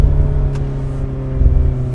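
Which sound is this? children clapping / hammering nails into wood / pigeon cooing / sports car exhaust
sports car exhaust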